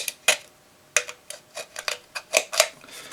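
Crisp snips of scissors cutting, about nine sharp metallic clicks at uneven intervals, close and alone in a quiet room.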